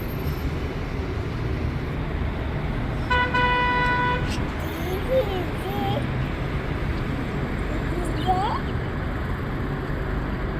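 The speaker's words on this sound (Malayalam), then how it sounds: "അപ്പോൾ ഇതാണ് കേട്ടോ മോളുടെ ബസ് അപ്പോൾ ബസ് താഴെ എത്തിയിട്ടുണ്ട്" A school bus pulls up on a street with engine rumble under steady traffic noise, and a long tonal horn blast sounds partway through, followed by faint chirps.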